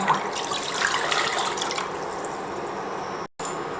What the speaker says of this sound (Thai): ใส่น้ำสะอาดลงไป 500 ml